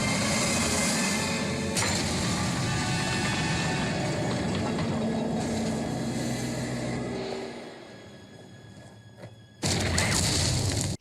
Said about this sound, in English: all while the train is getting closer and...